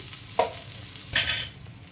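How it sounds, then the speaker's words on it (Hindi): Onions and spices, turmeric, crushed red chilli and coriander powder, being stirred and fried in a pan, with two short bursts of scraping and sizzling over a quiet background. "अब इन सारे मसालों को हम अच्छे से भून लेते हैं"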